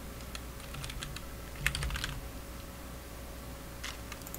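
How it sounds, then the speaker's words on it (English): A password typed on a computer keyboard while setting up a web hosting account, soft irregular key clicks scattered over a steady low hum, with one sharper cluster near the middle. "Here you are going to type a password"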